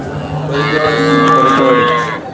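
A cow at a cattle market in Sangola gives one long, loud moo close by, lasting about two seconds.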